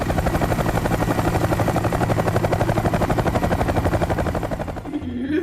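Helicopter flying, with a loud, fast rhythmic rotor thumping that stays steady and close before easing slightly at the end.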